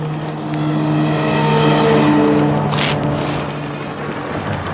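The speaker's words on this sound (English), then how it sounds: "Oh wow, a truck." A large truck rolls past on a suburban road beside a bike trail, a broad rumble that swells loud and close through the middle and then fades, with rushing wind noise throughout.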